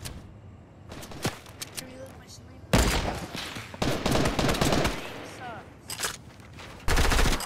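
Rapid bursts of gunfire from a video game come in several separate volleys, some long and some short, with a voice talking between and over the shots.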